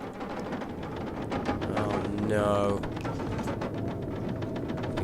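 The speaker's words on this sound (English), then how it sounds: "You can hear that outside. The weather has taken quite a turn while we had that nap." Stormy weather in The Long Dark on Xbox, a steady broadband howl of wind that stays loud throughout, with a short tonal sound in the middle and a brief exclamation from a voice over it.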